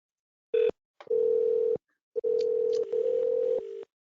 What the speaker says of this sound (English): Okay, let me dial.